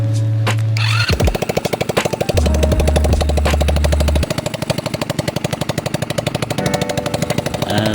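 Rusi Gala 125 motorcycle engine running without its exhaust pipe, a loud, close, rapid machine-gun-like stream of popping firing pulses that holds a steady idle rhythm throughout.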